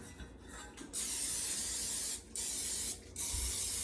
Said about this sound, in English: I have some vegetable spray. I'm gonna spray my pans.